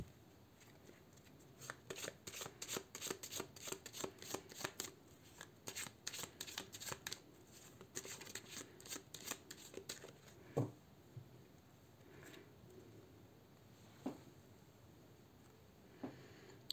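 A deck of tarot cards riffled and shuffled in quick, dense bursts for several seconds, then cut with a few isolated soft taps and slaps, close and quiet, with no voices.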